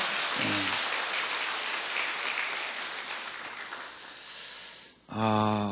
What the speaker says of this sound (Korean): 우리 같이 박수 한번 쳐주시죠